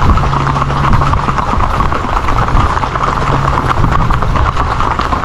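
Hooves of a black pinto horse clip-clop steadily along a beach at Playa Sol, a continuous walking rhythm set against a broad wash of outdoor noise.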